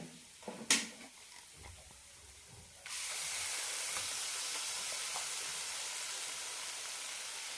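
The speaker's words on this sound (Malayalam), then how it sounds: "ഇനി ഇതിലേക്ക് അരപ്പ് കൂടി ഒഴിക്കാം" Ground coconut paste hits a hot spice-coated pan for banana flower curry, a few quiet clatters followed by a sudden loud, sustained steamy hiss that holds steady to the end; no voices.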